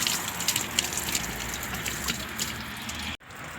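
Mineral spring water rushes and gurgles steadily in Germany, a continuous close splashing flow that cuts out briefly near the end.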